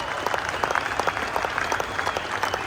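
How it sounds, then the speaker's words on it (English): An audience at a Barrett-Jackson car auction applauds a custom 1958 Corvette, with dense, crisp clapping from many hands carrying on evenly throughout. "Let's give them a round of applause."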